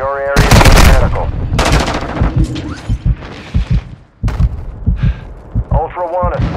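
Video game gunfire in Call of Duty: Modern Warfare II, loud bursts of rapid automatic shots and single cracks in close combat, mixed with radio-style voice callouts and game audio.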